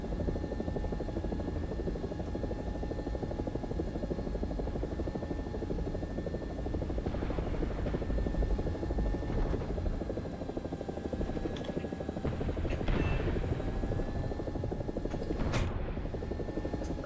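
An AB 205 helicopter in a video game gives off a steady, loud rotor and engine drone that holds throughout, with a few faint clanks and bursts mixed in and no voices.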